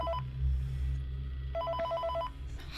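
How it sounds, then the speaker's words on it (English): A telephone rings in the video game Five Nights at Freddy's 3, giving two trilling bursts separated by a pause over a low steady hum. "Answer the phone."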